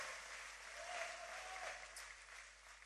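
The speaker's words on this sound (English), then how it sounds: "Give Brian a big round of applause." A campaign rally crowd in Michigan applauds Congressman Brian Mast, a steady mass of clapping and faint cheering from a large audience, heard at a distance and fairly quiet.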